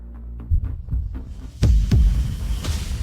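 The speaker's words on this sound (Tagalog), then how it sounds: "Napakahina na ng tibok ng puso niya." A weak heartbeat sound effect in a tense hospital drama scene about an injured woman who has lost much blood, with soft, low throbbing pulses repeating at a slow, even rhythm over a faint steady hum, then a few stronger thumps.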